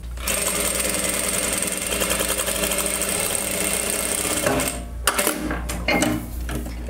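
Sewing machine stitching a bag, running in a steady continuous whir for about four and a half seconds, then stopping into a few short bursts and pauses as the piece is turned with the needle down.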